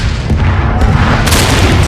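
Loud, relentless battle noise from a war film with soldiers fighting the Taliban in Afghanistan: heavy booms and rapid gunfire pile into a dense, continuous roar that cuts off abruptly.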